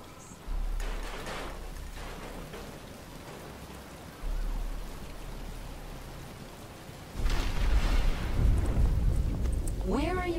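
Steady rain hisses across the scene in Batman: Return to Arkham, a broad wash that swells louder partway through, with voices speaking briefly near the end.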